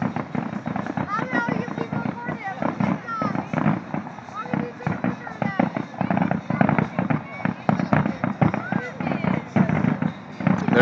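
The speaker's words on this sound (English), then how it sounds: "Rapid explosions." Rapid fireworks and firecrackers go off outdoors at a housing project, a dense crackling barrage of sharp pops that continues without a break, while people talk and shout over it.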